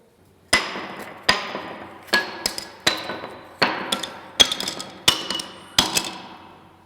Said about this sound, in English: will sound change if we take only wooden bars of different lengths and throw them?